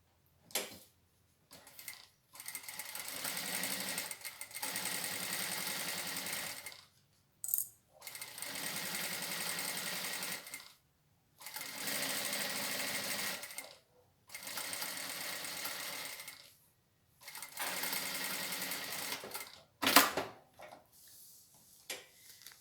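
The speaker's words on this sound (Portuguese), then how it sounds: "Vou passar uma costura de segurança." A sewing machine runs in several bursts of steady stitching, each a few seconds long and separated by short pauses, as it sews a safety seam close to the fabric edge while making a toilet paper holder.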